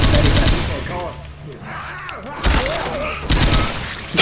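Bursts of gunfire and explosive thuds from frag rounds in the Left 4 Dead 2 Dark Carnival level, loud and chaotic, with rapid shots and heavier impacts overlapping in quick clusters amid game noise.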